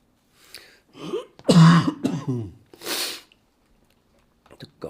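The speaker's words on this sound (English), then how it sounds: "The coughing is back." A person coughs and clears their throat in a short cluster of close, harsh bursts, with quiet pauses before and after.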